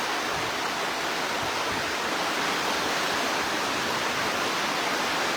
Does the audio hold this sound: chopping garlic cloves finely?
no